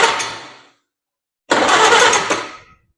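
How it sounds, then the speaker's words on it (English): The starter cranks the engine of a 1948 Farmall C tractor over in two loud, close bursts. A short spin is followed by a pause, then a longer churning crank with a rapid, even rhythm. The engine does not fire. "let me get over here and spin this engine over a little bit with the starter"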